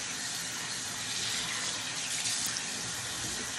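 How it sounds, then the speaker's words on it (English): Tap water runs steadily into a sink as a cloth face mask is rinsed out, a continuous close splashing gush with no talk. "I have lukewarm water that I'm rinsing it out"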